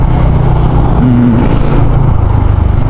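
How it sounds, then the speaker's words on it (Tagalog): Motorcycles passing in the opposite lane on a rainy road in Cavite, a loud close engine whine swelling and fading amid constant traffic rumble, with no talking. "nakikita niyo mga motor pwedeng makadaan dyan sa kabilang lane"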